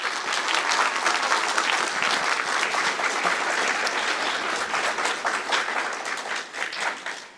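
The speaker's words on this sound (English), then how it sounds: "Now please join me in applauding our cast and crew as I introduce them." An audience applauds the cast and crew of an Innkeepers show with dense, sustained clapping that stays loud and steady before thinning toward the end.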